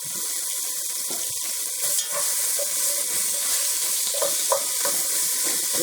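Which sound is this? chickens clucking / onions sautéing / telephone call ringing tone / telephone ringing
onions sautéing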